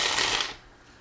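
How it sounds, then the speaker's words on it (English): A short papery riffle of Bicycle playing cards being shuffled up close, lasting about half a second before the sound falls away. "These do shuffle very nicely, I have to say."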